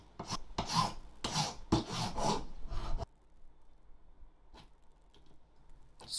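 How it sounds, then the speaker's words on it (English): A metal PC faceplate is filed flat in steady strokes, close and loud, for about three seconds, followed by quieter faint taps and near silence. "And file it flat as well."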